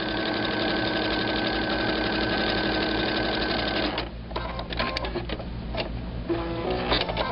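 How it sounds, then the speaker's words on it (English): A sewing machine stitches quilt pieces along a seam in a steady, fast, close mechanical whir with a regular rhythm, then slows and stops into scattered clicks and handling noises. "I'm going to line this up again here and sew all the way down."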